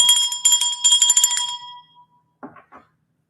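A small bright bell rings in a quick cluster of metallic dings that fade, followed after a pause by two softer, brief clinks, close and clear with no speech.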